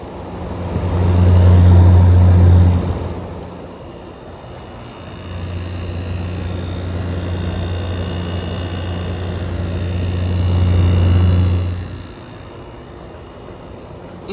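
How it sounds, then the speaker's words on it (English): A General Electric air conditioner running in cool mode gives a steady low hum with a deep drone that swells louder at the start and again near the end, fairly close and without voices. "Here's the GE running in cool mode."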